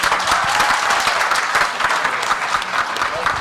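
Loud, sustained applause from an audience at the Shrinath Hindi festival in Jamshedpur, cheering Shrinath College with dense clapping that stays strong and ends in a slight taper.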